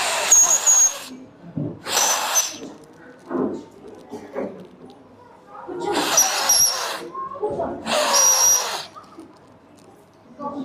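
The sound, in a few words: children whistling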